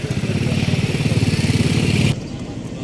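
A motorcycle engine runs close by at a pigeon market in Lahore, a steady, loud pulsing rumble for about two seconds that then cuts away to quieter background.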